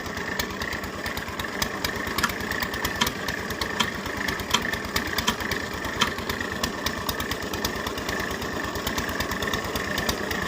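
Steady, throbbing tractor engine running at idle close by during tube well boring, with a regular knocking pulse and no voices.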